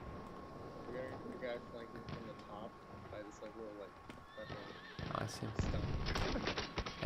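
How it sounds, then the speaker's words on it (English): A horse whinnies in the Battlefield 1 video game, its neigh rising over steady game noise and clip-clopping hooves, while players talk throughout and gunfire bursts come in near the end. "oh, there's a horse"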